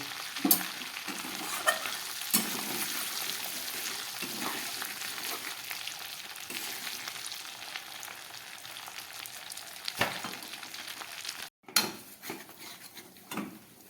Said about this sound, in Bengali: এই চিংড়ি মাছ ভাজার তেলের মধ্যেই আমি দিয়ে দিচ্ছি একটা তেজপাতা একটা শুকনো লঙ্কা দিয়ে দিচ্ছি একটু গোটা জিরে